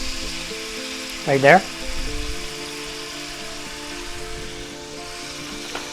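Chopped yellow onions hit a hot pan and sizzle with a steady frying hiss that carries on throughout, while a voice briefly speaks over it near the start.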